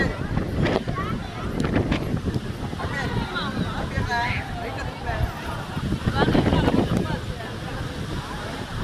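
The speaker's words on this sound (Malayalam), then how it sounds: "ഭയങ്കര കാറ്റ്." Strong wind buffets the microphone on the hilltop at Thirumalai Kovil temple near Tenkasi, a steady rushing roar with gusts throughout as a person talks close by.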